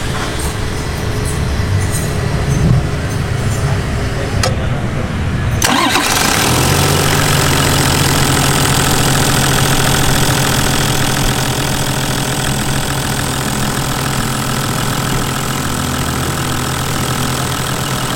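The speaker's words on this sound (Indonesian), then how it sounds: "habis itu kita nyalain mesin" A loud Toyota Land Cruiser VX100 engine cranks and roars to life, then settles into a steady, rumbling idle that continues for a long stretch.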